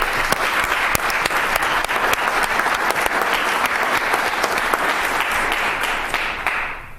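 Sustained audience applause at a city council meeting, dense steady clapping from a crowd in a chamber that holds level for several seconds and tapers at the end.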